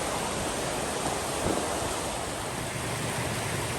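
A waterfall in Washington along the Pacific Crest Trail roars as a steady, even rush of falling water, fairly distant and unbroken, with no voices.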